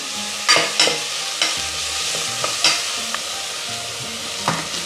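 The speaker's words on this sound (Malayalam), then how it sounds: "സവാള നമുക്ക് നന്നായിട്ടൊന്ന് വഴറ്റിയെടുക്കാം" Sliced onions sauté in a pan for beef mappas, with a constant sizzle broken by several sharp scraping stirs at irregular intervals, close and fairly loud.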